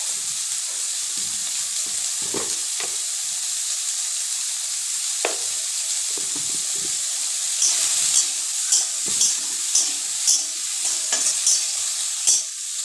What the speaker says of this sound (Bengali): সয়াবিনটা ভাজা হতে থাকে